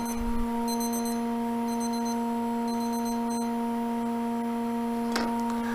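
A kitchen-style timer alarm beeps in a steady repeating pattern of short electronic tones over a constant hum, then stops, while gilding size dries for a gold-leaf gilding job.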